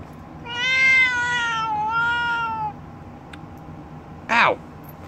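A house cat meowing, one long drawn-out wavering meow up close, then a pause and a second short, sharp meow.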